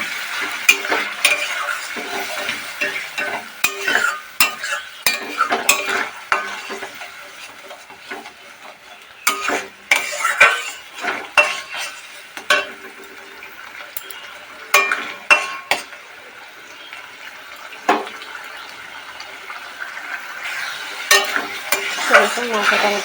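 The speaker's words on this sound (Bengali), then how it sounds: "দিয়ে এবার আমরা সামান্য জল দিয়ে মশলাটা কষিয়ে নেব।" Spice paste frying and stirred with a little water in a pan for masala begun, a steady close sizzle punctuated by frequent spatula scrapes and clinks against the pan, with no voices.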